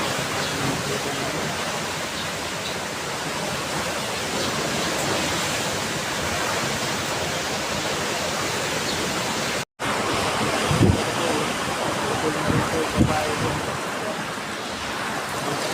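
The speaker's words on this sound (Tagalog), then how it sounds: "sobrang lakas pa ng hangin" Strong super typhoon wind roars continuously in heavy gusts, buffeting the microphone with a dense, rushing noise and a brief dropout midway.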